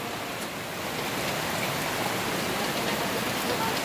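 Steady rain falling outside a house during the rainy season in a muddy rural yard, a dense continuous hiss of drops on surfaces with no pauses throughout.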